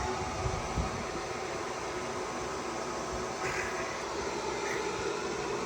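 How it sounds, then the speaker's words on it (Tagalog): A power supply cooling fan runs loudly as the unit heats up during a JK BMS replacement and test, a dense steady whirring drone that holds evenly with no breaks. "Maingay na nga, maandar na nga yung pan dahil nag-iinit na yung power supply."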